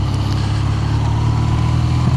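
A BMW R nineT motorcycle with its factory exhaust and a modified engine map runs at a steady, loud, close low drone, with no rev changes and no voices.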